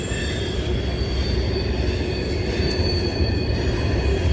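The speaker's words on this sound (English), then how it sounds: "Another daggum train." A train rolls past nearby with a continuous high metallic wheel squeal over a steady roar of rail noise, loud and unbroken from start to finish.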